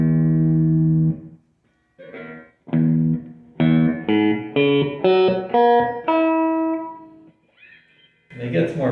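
An electric guitar played through a First Act M2A-15 amplifier with the distortion switched off rings out in clean, sustained notes and short melodic phrases, with pauses between bursts.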